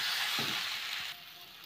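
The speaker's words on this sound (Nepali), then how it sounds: "अब यसलाई हल्का फ्राई गर्ने" A coriander and turmeric spice paste with salt is lightly fried in a pan, giving a steady, close sizzle that eases off slightly toward the end.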